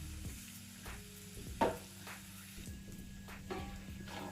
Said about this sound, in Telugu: అల్లం వెల్లుల్లి పేస్ట్ కూడా వేగింది కదా